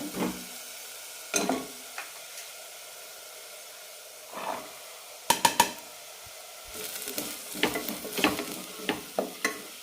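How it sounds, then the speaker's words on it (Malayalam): Vegetables are sautéed in a spiced masala in a pan for a mint vegetable biryani, making bursts of sizzling and hissing with clattering stirs against the pan, close and loud with quieter gaps between the stirs, and no voices. "ഇനി ഇതിലേക്ക് പച്ചക്കറികളെല്ലാം ചേർക്കാം."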